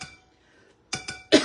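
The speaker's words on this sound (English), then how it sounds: "I don't know why I'm coughing all of a sudden" Three quick coughs from a person, close and loud, after a short quiet gap, the last one the strongest.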